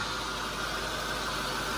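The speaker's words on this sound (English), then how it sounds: "The car is overhead, it's idling." Steady broadband drone of a 2005 Lexus LS430 idling while raised overhead on a lift in a workshop, engine warm at around 45 degrees, a constant even hum with no talk.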